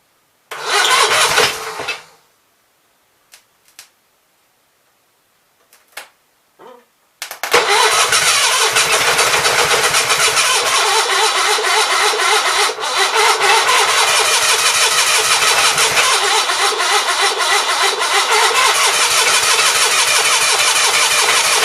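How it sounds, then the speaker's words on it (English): An Onan B43 engine cranks in a few short, loud bursts, falls silent and sputters briefly, then catches and runs continuously at a steady, loud, close idle for the rest of the stretch. "So let's just crank it over and see what happens here."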